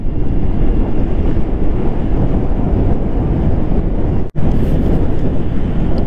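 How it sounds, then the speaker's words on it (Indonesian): Strong wind buffeting a microphone on the road during a motorbike tour, a loud continuous roar with one brief dropout. "Ini anginnya cukup gede ya."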